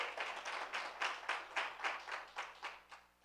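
A church congregation claps along in steady, rhythmic bursts, roughly three or four claps per second, heard faintly and at some distance with no voices over it.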